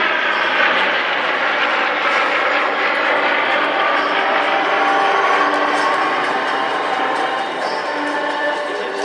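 A Breguet Atlantique twin-turboprop patrol aircraft passes at the La Ferté Alais air show, its loud, steady propeller and engine roar filling the whole stretch with little change in level.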